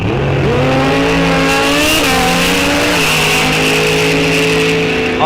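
A 1969 Camaro and a Suzuki launch side by side in a drag race at Rock Falls Raceway: loud, sustained engine roar climbing in pitch through several gear changes, heard up close.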